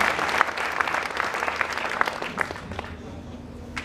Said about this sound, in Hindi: एक बार जोरदार तालियां माननीय राज्यपाल महोदय के लिए।